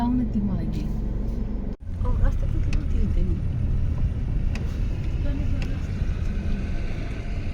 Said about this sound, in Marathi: ट्रक आला मागून